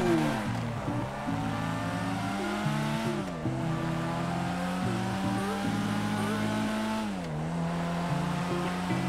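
A Karin Futo accelerates hard in GTA5, engine pitch rising through the revs with several distinct gear shifts dropping the note before it climbs again, loud and continuous.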